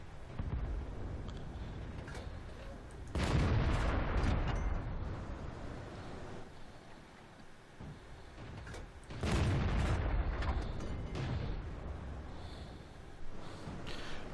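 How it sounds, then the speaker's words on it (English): Repeated heavy artillery booms in World of Tanks, two big low-frequency blasts a few seconds apart with rumbling tails, over steady tank engine and battlefield noise. "Gotta watch out for that artillery, so I gotta keep on moving"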